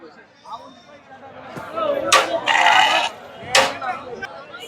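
Sheep at a livestock market in Ranipettai bleat loudly two or three times in short bursts, heard close over a murmur of background chatter.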